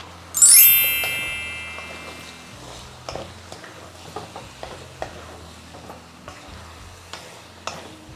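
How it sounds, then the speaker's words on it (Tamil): Quail pieces with salt sautéed in a large pan, opening with a bright metallic clang then a steady sizzle broken by repeated scraping stirs and ticking spatula knocks. "நல்லா ஒரு அஞ்சு நிமிஷத்துக்கு இதை நீங்கள் வதக்கணும்"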